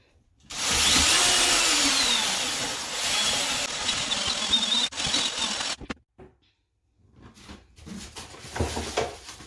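A power drill with a paddle mixes tile grout in a bucket for shower tiles, whirring loud and steady, then stopping and starting again with scraping and knocking in the short pauses.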